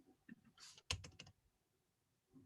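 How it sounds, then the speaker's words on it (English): A computer keyboard clicks faintly in a short flurry of keystrokes, a quick cluster of taps with a few scattered presses around it. "I'm typing something."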